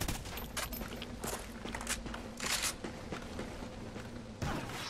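Rapid gunfire from the video game Call of Duty: Ghosts on PS4, dense bursts of shots and crackling impacts across a busy battlefield, with footstep-like thuds and louder volleys near the start and end, no voices.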